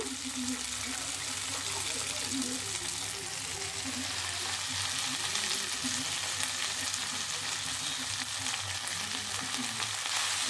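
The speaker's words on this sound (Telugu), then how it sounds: "గోంగూర వేసినాక బాగా 2 నిమిషాలు ఫ్రై చేసుకోవాలి" Gongura leaves fry with tomatoes in hot oil for pachadi, producing a steady, moderate sizzle with faint stirring that runs unbroken for several seconds, with a low hum underneath.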